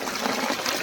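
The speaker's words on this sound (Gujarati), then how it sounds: "કુંડીમાં પાણી જાય છે મસ્ત મજાનું" Natural water flowing into a small tank in the countryside, a steady, close rushing and trickling sound with no voices.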